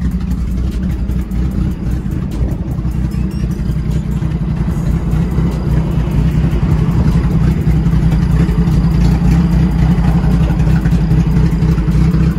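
A Toyota 4A-GE engine in a Tamiya-style owner-type jeep drones and revs steadily up close, a buzzy, smooth, rotary-like hum that rises and holds without pause.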